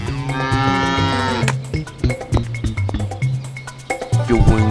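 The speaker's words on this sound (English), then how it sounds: "Go and milk that cow over there." A cow in the video game RuneScape moos loudly in a drawn-out call, followed by scattered clicks and game sounds, then another low moo at the end.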